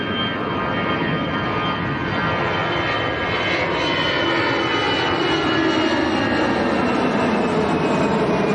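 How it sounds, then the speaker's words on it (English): A Volotea Airbus A319 departs Lanzarote Arrecife Airport bound for Nantes, its engines a steady, loud broadband roar that holds strong throughout with a slowly shifting whine. "This is the Volatea A319 outbound to Nantes."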